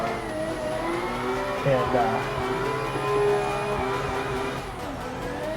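A Toyota JZX90 drifting in Assetto Corsa, its engine droning loud and steady with rising and falling revs through the transitions, while someone speaks over it.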